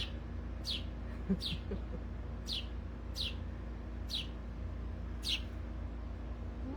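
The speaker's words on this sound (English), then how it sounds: "We have a bird coming to visit and be with us today." A bird in a backyard gives six short, high chirps spaced a second or so apart, thin and moderately close over steady low outdoor hum.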